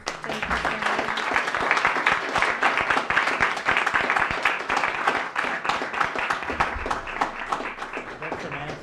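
Audience applause at the close of a long working day at a conference on metropolitan governance in federal countries, dense steady clapping that fills the whole stretch with a murmur of voices underneath.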